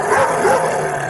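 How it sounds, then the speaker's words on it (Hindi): A dog barks and yips in a quick, excited burst, fairly close and loud, with no talking. "टॉमी उन पर भौंकने लगता है।"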